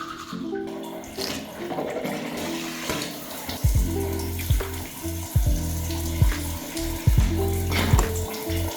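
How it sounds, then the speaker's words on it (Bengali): Tap water runs steadily while someone washes their face in a village home, a continuous splashing hiss broken by intermittent knocks and thumps. "সো বিছানা গুছানো শেষ, এবার হচ্ছে মুখ ধোবো।"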